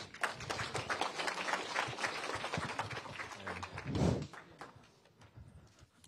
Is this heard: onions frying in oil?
no